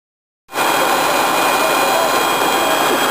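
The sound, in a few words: jet aircraft engine at Managua airport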